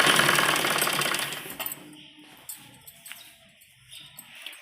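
A sewing machine stitches a trouser seam, a loud rapid whirring run that slows and stops after about two seconds, followed by quiet clicks and handling of the fabric.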